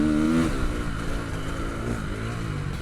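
A Ducati 450 motocross motorcycle engine runs at steady high revs, a loud buzzing drone with a slight rise and dip in pitch, close and continuous.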